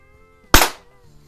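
A Gamo Compact .177 single-stroke pneumatic target pistol fires a single sharp, loud crack with a quick fading tail, close and isolated against a quiet background.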